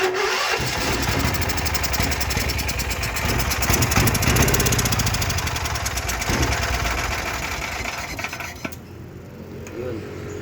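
An 8 kV silent-type four-stroke generator cranks and catches, then runs with a loud, steady engine drone for most of the stretch before cutting off near the end.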